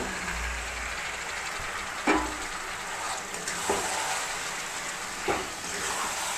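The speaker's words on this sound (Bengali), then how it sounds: "আর এখন আমি চিকেনটাকে এই মুহূর্তে ঢেলে দিচ্ছি।" Chicken pieces hit a hot pan of oil for a Bengali chicken kosha, giving a steady frying sizzle with a few sharp clattering knocks as the meat and utensil land.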